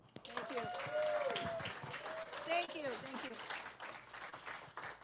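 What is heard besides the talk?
audience round of applause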